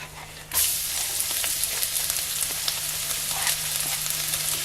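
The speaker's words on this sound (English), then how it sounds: "Then our garlic." Garlic hits hot oil in a pan as the first step of a Filipino pork belly pochero, bursting into a loud, steady close sizzle that holds without talking.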